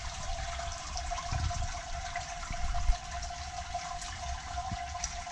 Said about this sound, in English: You hear that raining down? That's all the wort that was in the grain